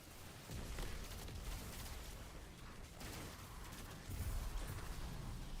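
A Scorch Cannon fires in the Destiny video game: heavy, booming blasts roll together into a dense, continuous roar of explosive impacts, loud throughout and swelling further near the end.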